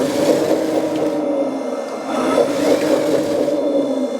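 A 1/14 scale D575 RC bulldozer's simulated engine sound with a rhythmic track clatter, a steady, fairly loud electronic drone with slight swells, heard alone without speech.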